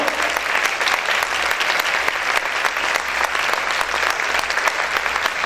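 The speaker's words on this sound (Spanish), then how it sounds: "Aplaude, aplaude fuerte al Rey en esta hora." A church congregation applauding loudly during a Spanish-language service, with dense, steady clapping throughout and a low hum beneath it.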